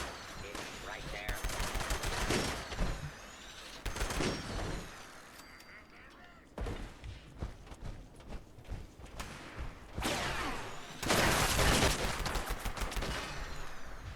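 A Pepper Shaker gun fires in the video game Fallout 76, loud rapid bursts of gunfire that come in several long volleys separated by brief pauses, with explosive crackle and game effects in between.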